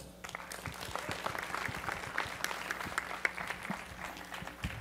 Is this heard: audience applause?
yes